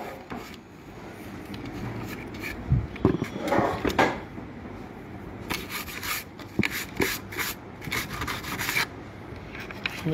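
A small brush scrubs across a computer RAM module in irregular, close, soft rubbing strokes with short rasping bursts, no voices.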